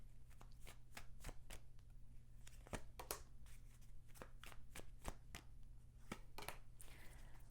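Tarot guidance cards shuffled quietly by hand, a series of crisp close card slaps and riffles in an irregular rhythm over a faint steady hum, with no one talking.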